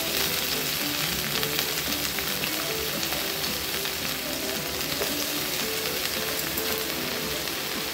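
Dill and pumpkin vegetables fry with onion in a pan, giving a dense, continuous sizzle that stays loud and even throughout, like steady rain on a surface.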